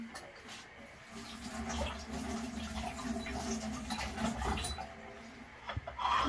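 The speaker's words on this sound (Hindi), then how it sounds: "अब मैं इसमें मटन ऐड करने लगी।" Half a kilo of washed, frozen mutton pieces going into water in a pressure cooker: soft, faint splashes and clinks of meat and metal in a quiet kitchen, irregular and close, with no talking.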